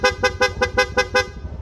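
A PIAA dual horn fitted to a Yamaha NMAX V3 scooter honks in seven quick, evenly spaced bursts, loud and close, with no other sound around it.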